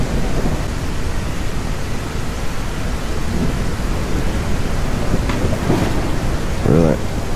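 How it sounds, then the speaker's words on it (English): Heavy, continuous rain with low rumbling thunder rolls in the survival video game SurrounDead, a dense wash of noise throughout, with a few faint game sounds and a brief voice-like blip near the end. "And if it ever stops fucking raining,"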